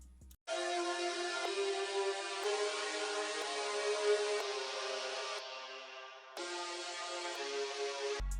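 Serum synth with an auto-pan effect holding sustained bright chords that change every second or so in a beat-making session, steady and full with a brief dip in the middle, no voices.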